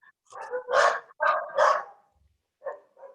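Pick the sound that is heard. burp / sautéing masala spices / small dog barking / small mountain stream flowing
small dog barking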